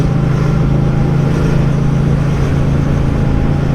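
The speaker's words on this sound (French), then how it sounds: "C'est interminable le fil des voitures." Steady, continuous rumble of cars passing in a long line of traffic, a dense mid and low engine drone with no breaks, moderately loud and close, no voices.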